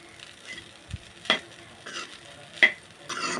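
Egg fried rice is stirred in a pan over a soft sizzle, with a few distinct scraping strokes of the spatula and light clinks at irregular intervals.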